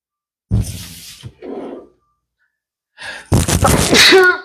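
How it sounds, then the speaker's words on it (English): Two sneezes triggered by dried pepper, the first a sharp burst followed by a softer exhale, then a louder, harsher sneeze after a pause, close and unaccompanied by talk. "I'm going to be sneezing for a minute, folks."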